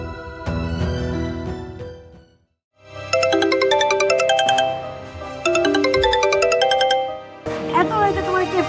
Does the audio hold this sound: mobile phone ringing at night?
yes